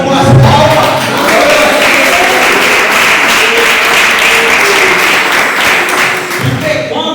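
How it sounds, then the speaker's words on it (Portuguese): Church congregation clapping hands in praise during an evangelical sermon, a loud, steady wash of many hands with voices and music mixed underneath. "Pode louvar o Senhor com as palmas."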